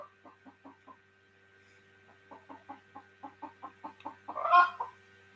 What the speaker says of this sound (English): Look like the chicken they love corn more than coconut.